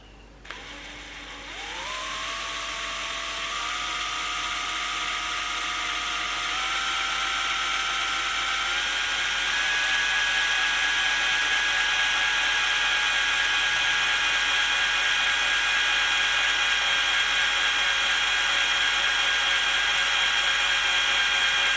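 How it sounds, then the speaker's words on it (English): An electric drill whirs while boring a hole into a guitar body cavity. Its pitch starts low, steps up in speed several times and then settles into a steady, fairly loud whine, with no talking. "Now I'm going to drill a hole into this cavity to put the screw into it."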